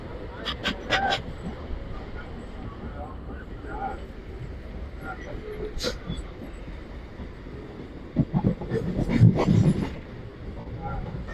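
A train rumbles and rattles steadily as it rolls slowly into Villivakkam railway station in Chennai, slowed for track work, with metallic clanks and squeals rising near the end.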